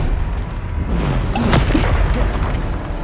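A Bombarda blasting spell explodes in Hogwarts Legacy: one sharp, loud boom bursts out about halfway through, over a steady rumbling game background.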